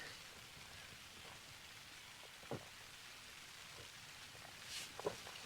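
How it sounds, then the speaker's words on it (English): Light rain patters steadily at a wild camp on the Northumberland hills, a faint, even hiss with a couple of louder drips or knocks nearby and no talking. "It's not mega heavy downpours like, but it's rain and it's wet."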